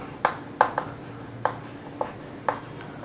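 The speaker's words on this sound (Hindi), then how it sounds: "यहाँ लिखेंगे इम्पोर्टेंट फार्मूला" Chalk or marker taps and strokes across a classroom board as a formula is written, six or so sharp, irregularly spaced ticks over quiet room tone.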